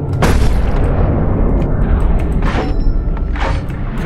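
A quad shotgun firing in a video game, with heavy booming blasts over a continuous low rumble, including sharper bursts near the start and later on.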